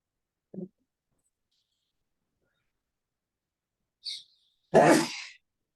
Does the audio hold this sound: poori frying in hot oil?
no